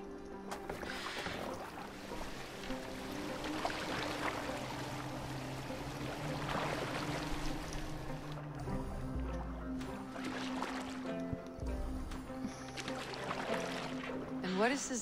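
A boat gliding over water in Assassin's Creed Valhalla, with continuous soft lapping and splashing of oars and hull under a musical game soundtrack, steady and moderately loud throughout.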